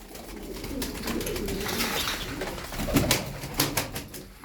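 A male Arab pigeon coos while chasing a hen, soft repeated cooing under faint background noise and rustling, with a few louder coos near the end.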